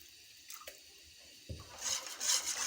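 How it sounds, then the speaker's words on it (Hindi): Water splashes into a wok on a stove while halwa is made, with a few short pours and a brief metallic knock. "इसमें जो है हम थोड़ा सा पानी भी डालेंगे।"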